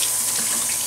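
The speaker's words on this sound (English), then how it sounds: "now let me wash my hands" Water streams from a kitchen tap during hand washing while cooking, a steady close hiss of running water with no talk.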